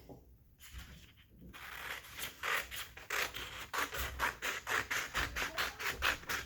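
Scissors cut paper along a drawn line for a quilt square, a close series of crisp snipping strokes that start sparse and settle into a quick, even rhythm.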